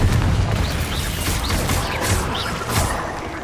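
A Confringo spell explodes in Hogwarts Legacy amid other combat spells, giving a dense, loud booming blast with crackling bursts that stays near constant throughout.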